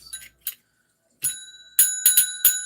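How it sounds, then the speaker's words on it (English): A bell rings in a series of bright, ringing strikes, first a few short isolated taps, then several louder clustered dings with sustained tones, close and clear, no talking. "bell has rung"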